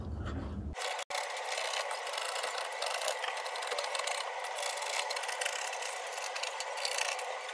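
Scissors cut Ankara fabric pattern pieces up close, giving a steady rasping slide that runs continuously after a brief opening sound.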